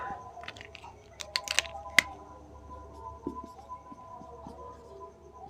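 Chalk or marker writing on a board during a Class 12 maths lesson on functions, a few quick taps and strokes clustered early, then faint scratchy marks, close and quiet; no talking.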